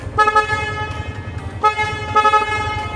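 A loud aftermarket horn on a Sniper 150 motorcycle blares in repeated bursts, a brassy multi-tone honk over a low engine rumble.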